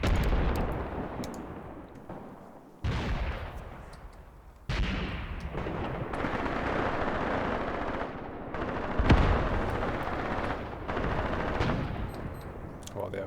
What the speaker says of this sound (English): the last mortar rounds are now arriving